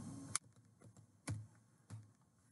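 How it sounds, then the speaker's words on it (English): A computer keyboard heard as three separate key clicks, spaced about a second apart, faint and close in a quiet room. "As you see, I typed the URL https://onetouchbi.edu/cognos1116."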